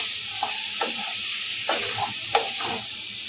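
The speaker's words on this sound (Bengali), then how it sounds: "এবার সেদ্ধ করে রাখা আলুগুলো এর মধ্যে আমি দিয়ে দেবো, আবারও ভালো করে নেড়ে চেড়ে নেব" Boiled potatoes are stirred with besan in a pan, giving a steady soft sizzle and hiss broken by several scraping stirs at a moderate, close level.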